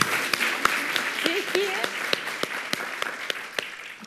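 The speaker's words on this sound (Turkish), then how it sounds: "Annesine alkış." Studio audience on a Turkish daytime show applauding, a steady wash of clapping with sharp individual claps standing out, while a voice briefly speaks over it near the middle.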